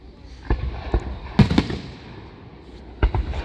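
Fourth of July fireworks bursting overhead: a few sharp pops at intervals, with a cluster of louder cracks in the middle and another pair near the end, over a low background rumble.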